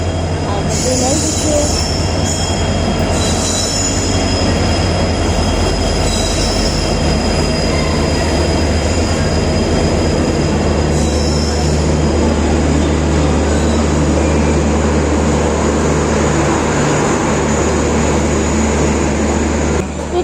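A passenger train runs along the rails with a loud, continuous rumble, rhythmic wheel clatter and intermittent high metallic squeals, heard from on board throughout.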